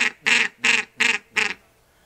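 Duck call imitating a diving duck such as a tufted duck gives four quick, loud raspy quacks in an even rhythm, then falls silent.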